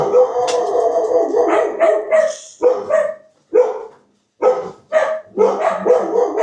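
A dog barks loudly and close in a rapid series of sharp woofs, broken by brief pauses, alone with no speech.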